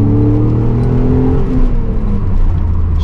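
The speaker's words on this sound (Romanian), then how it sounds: "tot sunetul ăsta mecanic, metalic de la motor" A 3.0-litre BMW Z3 roadster engine drones steadily while driving, a loud, low mechanical hum with a constant throb and faint road whir, close and unbroken, with no talk.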